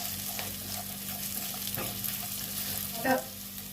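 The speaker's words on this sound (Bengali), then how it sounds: "আদা বাটা ভাজা হয়ে গেছে" Ginger paste frying in a pan over low to medium flame, a soft, even sizzle with light stirring scrapes and one brief clatter near the end, no talking.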